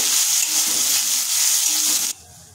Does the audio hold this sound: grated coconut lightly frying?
yes